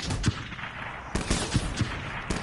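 Gunfire from a Black Ops 3 match, including a sniper rifle, comes as a series of sharp, loud reports spread across a couple of seconds over busy game noise.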